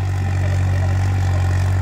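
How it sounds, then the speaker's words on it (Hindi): A tractor engine runs while pulling a trailer, a loud, steady low-pitched drone with a constant throb and no pauses, close by. "देखिए भाई ये ट्रेलर पर भाग रहा है ट्रैक्टर पूरा"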